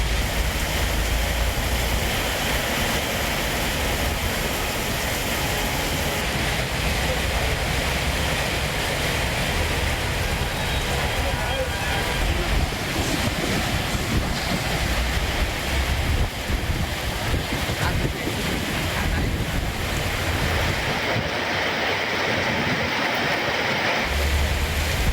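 Heavy rain driven by strong wind in Hosur, a steady loud broadband roar of downpour and gusts that runs unbroken for the whole stretch, with no voices.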